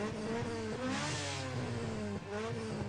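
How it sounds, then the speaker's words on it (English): A synthesized car engine revving in the video game Midnight Club 2, its pitch climbing and dipping through gear-like steps, loud and continuous. "it does like a little engine effect for what each car is supposed to sound like"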